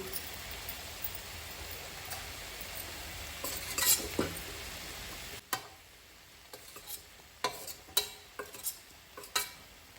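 Prawns and potatoes go into sizzling masala for Goan dry prawns, with a steady fry hiss that drops away midway, followed by scattered scraping stirs and utensil knocks against the pan, close and moderately loud with no talking.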